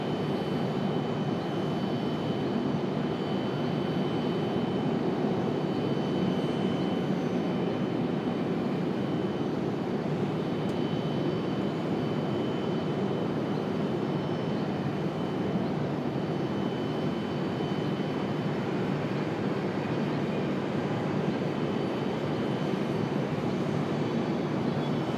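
Distant airliner taking off at Raleigh-Durham airport, a faint steady roar of jet engines carried over broadband background noise for the whole stretch.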